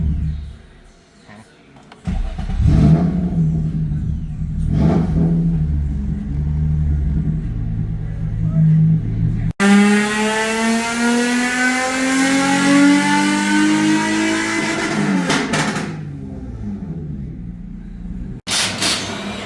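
A Toyota GR86 running on E85 revs hard on a dyno, loud rising engine pulls climbing in pitch, a sharp cutoff, then another sustained high-rpm run, close and dominant with no speech.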